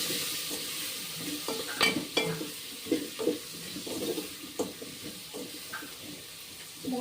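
A ladle stirs drumstick and tomato rasam in a pan, making a string of soft, close scrapes and clinks over a quiet, steady sizzle.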